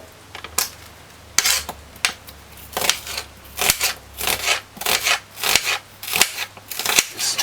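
A cook peels a medium-sized onion for chicken foot stew peas, making a series of sharp, crisp papery tears and crackles in an uneven rhythm, close and alone.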